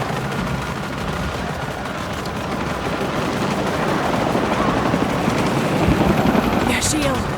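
Helicopter rotors thrum continuously amid a dense battle din in the video game Shadow of the Tomb Raider, with bursts of gunfire and muffled voices layered underneath.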